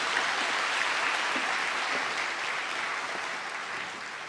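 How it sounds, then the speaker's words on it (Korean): A church congregation at an early-morning revival service applauds the choir, full and sustained clapping that stays steady and tapers slightly at the close. "우리 다시 한번 기쁨 찬양대를 향하여 큰 박수 부탁드립니다."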